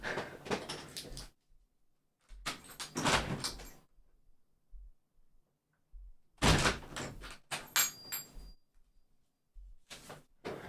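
A back door is handled to let a pet cat out, giving several bursts of rattling, sliding and thudding at irregular intervals, close and fairly loud, separated by near silence.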